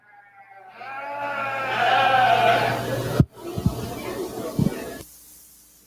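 A black-face breeding ewe bleats in a show ring, one long wavering call that swells and then cuts off, followed by a few thuds and shuffling.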